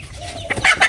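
A chicken gives a few short, bright clucks close by, the calls bunched near the end of a brief moment of quiet farmyard background.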